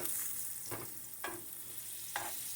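Eggplant slices fry in olive oil with a faint, even sizzle, broken by three short scraping bursts as the pieces are moved, and no one speaking.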